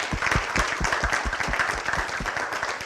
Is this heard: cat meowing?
no